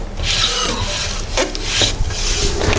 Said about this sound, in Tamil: டேப் அடிக்கிறப்ப அழகாக வச்சுட்டு சுருக்கு இல்லாமல் அடிங்க.